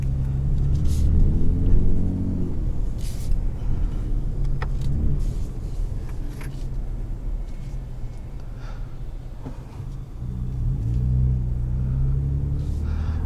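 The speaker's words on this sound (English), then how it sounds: "Oh, I love this truck." A 2021 Ford F-150 Raptor pickup truck being driven, its engine and road rumble heard from inside the cab as a steady, loud low drone with slight swells in intensity throughout.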